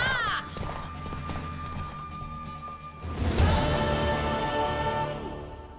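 Hooves of a horse galloping in the video game The Witcher 3 clatter in a rapid rhythm amid game music and effects, with a louder thudding stretch in the second half.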